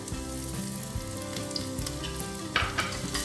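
Chilies sizzle as they fry in a pressure cooker, a steady close hiss under a low continuous hum, with a brief sharper crackle near the end and no talk.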